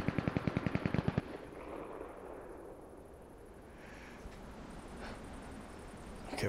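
Rapid burst of automatic gunfire in the battle royale game Cuisine Royale, a dozen sharp shots in quick succession up close, then fading into quiet ambient rumble with scattered distant pops.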